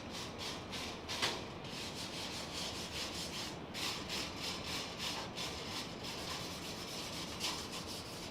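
A metal grate is lifted and scraped out of a Josper charcoal oven, giving a continuous gritty rubbing and grinding with a few sharper metallic scrapes, close by and with no talking.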